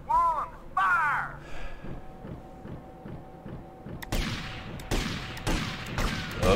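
Gunshots in GTA: Vice City ring out in a burst of sharp, loud cracks near the end, after a stretch of lighter thumps and game sounds, with a voice talking over the action.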